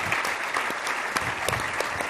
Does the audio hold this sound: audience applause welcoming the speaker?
yes